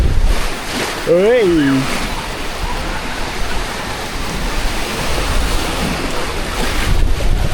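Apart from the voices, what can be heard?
rushing water on a theme park river rapids ride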